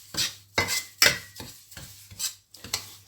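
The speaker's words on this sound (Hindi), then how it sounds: "सूजी हमारी भुन गई है" Semolina roasting in a pan over a low flame for Punjabi pinni, stirred with rhythmic scraping strokes, six or so distinct swishes spaced about half a second apart against a faint hum, no talking.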